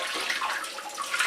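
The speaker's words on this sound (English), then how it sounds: "run the lettuce under the tap, and also at the same time you can wash it a bit as well" Lettuce is held under a running kitchen tap, a steady close hiss of flowing water splashing over the leaves with slight fluttering variation, alone without speech.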